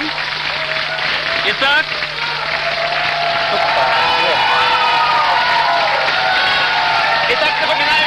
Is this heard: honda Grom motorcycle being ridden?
no